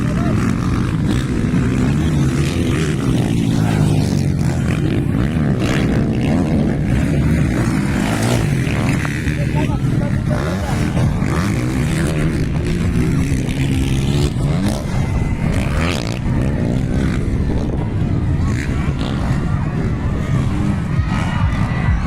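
Racing motorcycles at a big event in Mindanao, continuous loud engine roar and revving with crowd noise and excited commentary over the top.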